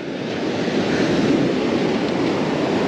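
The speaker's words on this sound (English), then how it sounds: "let's just go ahead and wait until the waves calm down a little bit" Ocean surf rolling onto a beach during a November Dungeness crab fishing outing, a steady loud broadband wash with no breaks, heard alone without talk.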